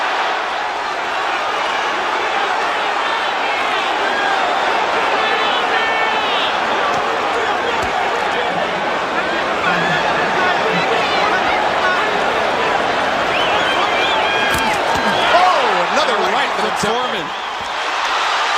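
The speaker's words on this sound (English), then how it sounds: "The crowd going nuts here, seeing Foreman score." A boxing arena crowd roaring steadily at the 1991 Holyfield versus Foreman heavyweight fight, a dense continuous cheer under ringside commentary.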